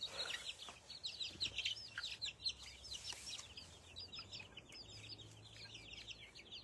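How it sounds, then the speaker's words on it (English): A bunch of chickens cluck and chirp in a busy, overlapping chatter. The sound is faint and continuous, with a low hum underneath and no voices. "I'll just have a bunch of chickens"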